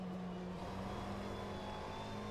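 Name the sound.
race car engine in a racing video game at Zandvoort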